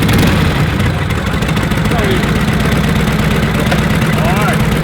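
A custom chopper motorcycle engine runs at a rough, loud idle close by and rises slightly with throttle, while people talk at an outdoor custom chopper show.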